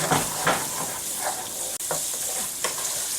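Shrimp sizzle and fry in a pan with saffron sauce, a steady close hiss broken by a few stirring scrapes and one brief dropout, with no voices.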